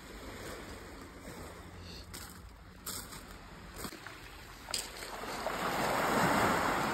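Sea waves wash onto the shore on a hazy autumn evening on the Black Sea coast, a soft continuous surf with a few brief knocks, swelling slightly louder near the end.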